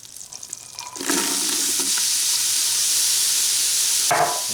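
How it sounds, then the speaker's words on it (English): Onions sautéing in an Instant Pot on its sauté setting, a loud continuous sizzle that bursts up after a quiet start, with brief stirring clatter near the end. "You can hear it's pretty powerful, the sauté setting on the Instant Pot"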